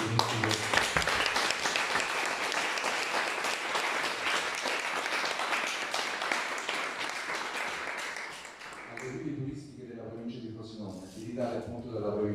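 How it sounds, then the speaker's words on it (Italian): Students applaud at a formal event in the province of Frosinone, a dense, steady clapping that fills the first eight seconds and then thins out as voices take over. "con un bel applauso degli studenti."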